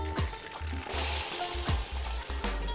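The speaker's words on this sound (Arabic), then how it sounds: "مكان الفراخ نحط البصل، وهنحط كمان" Chopped onions frying in a pan of hot oil in a home kitchen: a steady, close sizzle with soft crackling and a few clinks and scrapes of a utensil stirring the pan.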